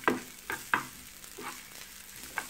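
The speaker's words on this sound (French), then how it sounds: "je mets mes échalotes. Je vais les faire revenir un instant." Shallots sizzle in a frying pan under a soft, continuous crackle, punctuated by several distinct stirring scrapes and clinks of a utensil against the pan, close and fairly quiet, with no talking.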